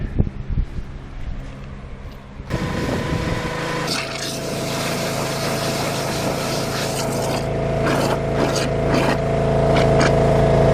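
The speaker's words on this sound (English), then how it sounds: "just go ahead and pressure wash underneath the sidewalk here" A pressure washer sprays water under a concrete sidewalk to loosen rock and tunnel alongside a buried pipe, making a loud, steady, close hiss that starts abruptly and builds slightly over time.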